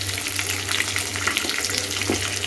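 Onion and garlic sautéing in an oiled pan, a continuous close hiss and crackle of frying with a faint low hum underneath, steady throughout with no talking.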